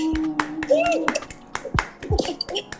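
A small group gives a short round of applause with separate sharp hand claps, mixed with cheering voices and excited whoops, close and informal.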